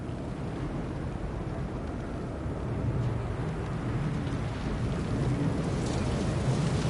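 Fortnite's storm rumbles with thunder and falling rain, a steady dense wash of low rumble and hiss that swells slightly toward the end, with no speech.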